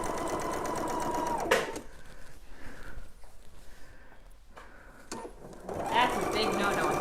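A sewing machine stitching a quilt whirs steadily and close at the start, stops for a pause filled with quiet room noise, then starts running again near the end, with someone talking over it.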